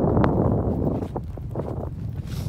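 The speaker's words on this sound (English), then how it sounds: "Get the wind at our back and it won't hit you in the face." Wind blustering across an outdoor bluegill fishing spot, a steady close rumble of wind noise on the microphone with faint scattered knocks and thuds and no talking.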